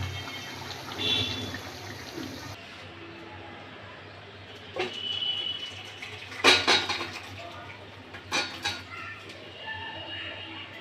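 A pot of meat curry comes off a home stove, with metallic clanks and scrapes of pots and utensils in short bursts over a quiet hum.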